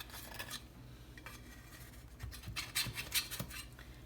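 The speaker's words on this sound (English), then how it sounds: "Just do this with a knife gently." A knife is run gently around a freshly baked, slightly cooled cake in its metal baking tin, giving soft scraping and rubbing sounds with a few brief clinks of blade on tin, close by and with no talking.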